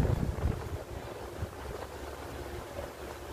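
An electric fan fitted with a new motor and capacitor runs with a soft, steady whooshing hum, with a slightly louder rush at the start.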